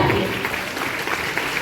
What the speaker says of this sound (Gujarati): વિદ્યાર્થીનીઓને ફરી એક વખત તાળીઓના ગડગડાટથી વધાવીએ